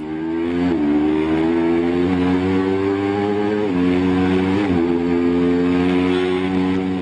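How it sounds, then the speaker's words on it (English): Racing motorcycle heard from onboard at speed during a road race, a loud continuous engine whine with shifting pitch steps as gears change, alone with no talk. "To get a sense of just how fast these riders go, we mounted a camera on Miller's bike during one of the races"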